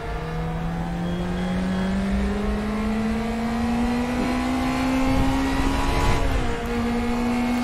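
A race car engine in the RaceRoom racing simulator holds a steady, loud, rising drone as it climbs through the revs near the limiter, continuous for the whole stretch.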